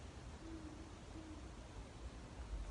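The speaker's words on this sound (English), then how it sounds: "did you hear that owl?" Two soft, low owl hoots sound at night, spaced about a second apart, faint and distant beneath a steady background hiss.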